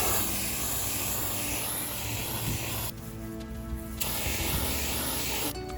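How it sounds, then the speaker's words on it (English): Continuous hiss of an aerosol can spraying anti-mold primer onto a plastic toy car, steady and close, with brief breaks as the spray stops and restarts. "Spray painting is not the easiest thing to do."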